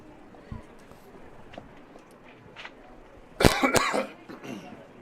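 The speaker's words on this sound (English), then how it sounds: "I missed the cough button there." A single burst of coughing into an announcer's microphone at a girls' varsity lacrosse game, loud and close, rising sharply out of a quiet, faint background before fading.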